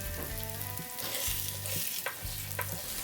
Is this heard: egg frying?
yes